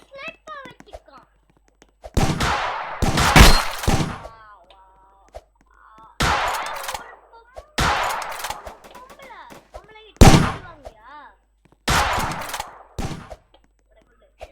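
Bursts of rapid gunfire ring out in the Roblox shooter FPS Recall, several loud clustered volleys separated by quieter stretches, with excited players talking over and between the shots.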